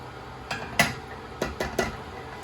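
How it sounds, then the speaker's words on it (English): Chana dal being stirred in a cooking pot, with a few sharp spoon knocks and scrapes against the metal pot, spaced irregularly and fairly close, no talking. "Give that a good mix."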